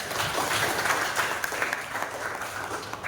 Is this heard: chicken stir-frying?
no